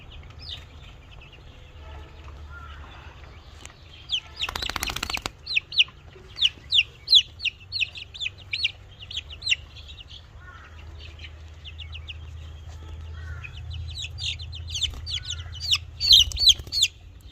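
American Brahma chickens cluck and chatter in a flock nearby, with repeated short calls rising and falling over a low steady hum, and a brief burst of flapping or rustling partway through.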